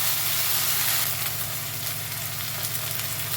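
Onions frying with ginger-garlic paste in a pan give a steady, fairly loud sizzle and hiss that runs unbroken throughout, with no voices.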